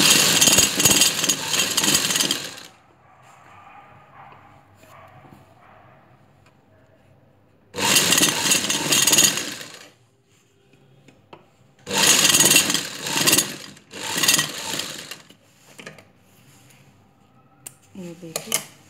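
Sewing machine stitching fabric pieces of boxer shorts in loud separate bursts of rapid whirring, with quiet stretches between where a person talks.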